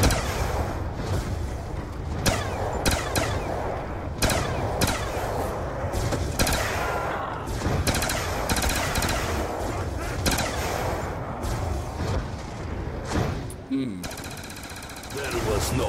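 Rapid bursts of gunfire from the Origins zombies map in a video game run almost nonstop, loud and dense, with a player talking over the shooting.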